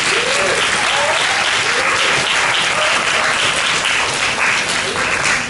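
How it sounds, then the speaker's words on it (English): Audience applause fills a hall at a Big Data Week 2015 event, loud and continuous with dense clapping throughout and a voice briefly audible early on. "Give you guys a round of applause."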